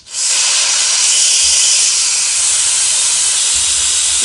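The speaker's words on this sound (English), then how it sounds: "This is what's called the quick release." Steam hisses loudly and steadily from the quick pressure release valve of an Instant Pot electric pressure cooker, a continuous close-up jet of vapour that starts abruptly and holds at full strength throughout.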